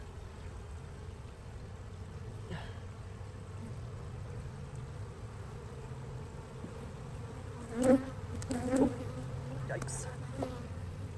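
Honeybees hum steadily around an outdoor beehive after a week of heavy rain, a close, continuous buzzing with a few louder passes near the end, under which a single brief spoken word is heard.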